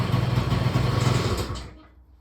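A Peugeot Speedfight 2 100cc scooter idles with a close, uneven putter that sputters and dies away after about two seconds.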